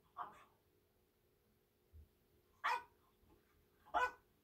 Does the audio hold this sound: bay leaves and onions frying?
no